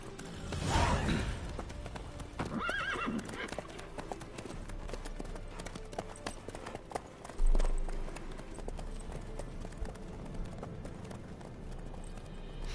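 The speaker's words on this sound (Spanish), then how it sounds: "El sonido de los pasos de los caballos." Horse hoofbeats in The Witcher 3: Wild Hunt, a rhythmic clip-clop of hooves carrying on steadily over a low ambient bed, with a soft whoosh partway through and no talk.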